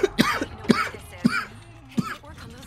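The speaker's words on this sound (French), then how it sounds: "Excusez-moi de tousser tout le temps." A person coughs repeatedly, four sharp, close coughs spaced about half a second apart with throat-clearing rasps between them, loud and without speech.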